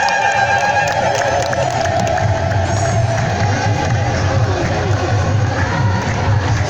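Dense crowd din at the Timkat celebration at Jan Meda, Addis Ababa, holding steady and loud throughout, with a high sustained trilling layer that fits massed ululation over the general roar.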